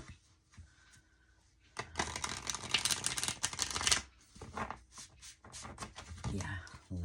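A tarot card deck is shuffled by hand, giving a dense, crisp riffling burst of paper flutter that then breaks into shorter, scattered shuffles and taps, close up, with a voice speaking around it.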